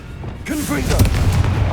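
A Confringo blasting spell goes off in the Hogwarts Legacy video game, a booming, rumbling burst that swells and holds loud for over a second, with a brief voice-like tone at its onset.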